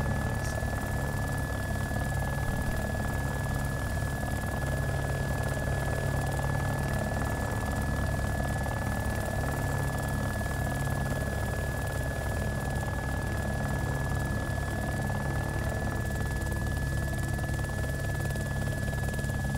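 A helicopter flies steadily in the video game DayZ, its rotor and engine drone holding loud and unbroken throughout with no pauses or changes.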